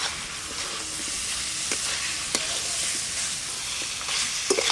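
Fried giant river prawns are stirred through a masala gravy in a hot pan, giving a steady close sizzle with scattered scraping clicks of the spoon.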